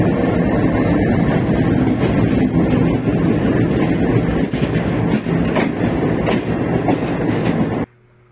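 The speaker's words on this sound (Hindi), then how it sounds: "45 पाकिस्तान एक्सप्रेस 50 मिनट की ताखिर से प्लेटफार्म नंबर 1 से रवाना हो रही थी" The Pakistan Express train departs from platform number 1 with a continuous loud rumble and clickety-clack of wheels on rails, heard close from on board until it cuts off abruptly near the end.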